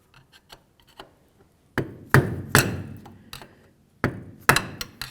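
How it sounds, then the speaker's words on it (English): Sharp metallic hammer strikes knock back a peened-over lock washer on the inner tie rod of a 1998-2002 Honda Accord, light taps at first, then several loud, ringing blows in pairs, close by. "you're going to see that there's a washer that's actually peened over. You want to make sure you push those peens so they're kind of facing up"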